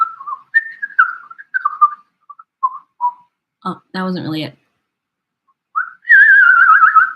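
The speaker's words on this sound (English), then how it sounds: "My favorite kind of whistle is." Someone whistles a string of short wavering notes, then briefly speaks, and ends with a longer trilling whistle, close and clear.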